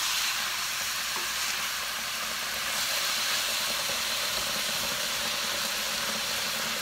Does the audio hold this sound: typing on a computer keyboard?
no